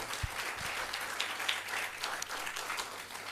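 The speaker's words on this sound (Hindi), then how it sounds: "उनके लिए तालियां बजा दो" A seminar audience gives steady applause, a soft continuous patter of many hands heard from some distance, with a couple of low thumps early on and no speech over it.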